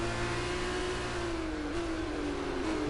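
A Trident Formula 2 race car's engine in F1 2018 drones at high revs, a steady whining buzz whose pitch slides slightly down while the car passes at moderate distance.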